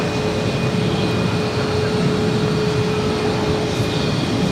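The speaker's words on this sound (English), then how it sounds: "Spirit 500 taking off to Sarasota" Spirit Airlines airliner taking off at Boston Logan airport: steady, loud broadband roar of jet engines holding constant throughout, with a faint high whine on top and no voices.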